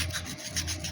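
Sandpaper rubs against a part of a 747 overlock machine in quick, rasping back-and-forth strokes, several soft pulses within one second, close but fairly faint.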